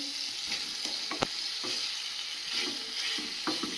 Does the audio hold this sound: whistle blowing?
no